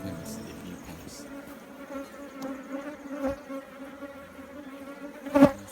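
Honeybees at a colony hum in a steady, dense drone that swells slightly. Individual bees pass close to the microphone, and one loud buzz sweeps by near the end.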